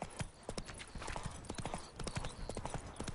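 Horse hooves clip-clop in a quick, steady trot in The Witcher 3 video game, close and clear, with no talking over them.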